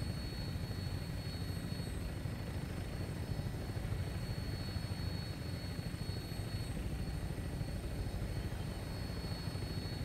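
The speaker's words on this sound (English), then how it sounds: "Yeah, the rotor blades are shutting down." Helicopter rotor blades in the video game Fallout 4, a steady loud whirring drone with rapid fine chopping pulses, continuous and close with no talking.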